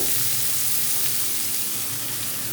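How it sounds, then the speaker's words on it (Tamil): Onion sautéing in a pan for a plantain stir-fry, a steady broadband sizzle that holds evenly throughout, fairly close, with one small knock near the end and no speech. "ஆனியன் வதங்கட்டும்."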